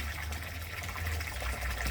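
A pond pump laid on its side churns and gushes water, a steady low rushing flow, fairly quiet and constant with no voices.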